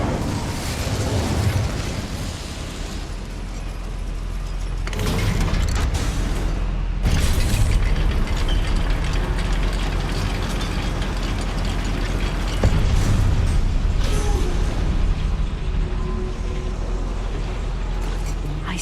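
A fire spell cast in the fantasy game Hogwarts Legacy bursts out in fiery, explosive roars over a rumbling game soundscape, with several loud whooshing surges that flare, die back and swell again.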